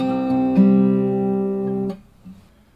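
Acoustic guitar plays the C5 figure from measure 6 of a piece, with a couple of plucked attacks sustaining into a ringing chord that cuts off after about two seconds, close and alone.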